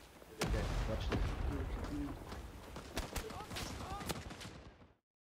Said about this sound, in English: artillery coming between Alpha and Bravo